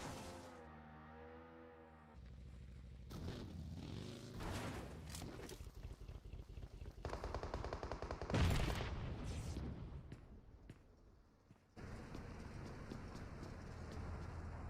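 Gunfire in a PUBG Mobile tournament match: sharp shots and bursts scattered across busy game noise, some near and loud, others fainter, with no voices.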